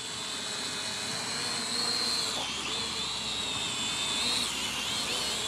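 An E88 Pro drone flying in sport mode in mild wind gives off a steady, high-pitched motor whine. The pitch wavers slightly as it manoeuvres, continuous and fairly close with no voices.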